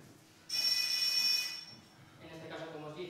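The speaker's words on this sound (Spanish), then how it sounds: "he puesto un zumbador que emite un pitido y un LED para que lo veáis" An electronic buzzer on a prototype device gives one steady, piercing tone lasting about a second, then stops, followed by faint voice-like sounds.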